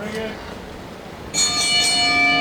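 A ring bell is struck to start a singles match at a wrestling event, sounding loud and resonant after a quieter stretch of crowd murmur and ringing on to the end.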